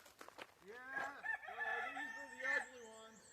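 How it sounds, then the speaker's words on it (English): Several chickens clucking and a rooster crowing close by, with a long drawn-out crow rising and falling over a few seconds. "All the chickens"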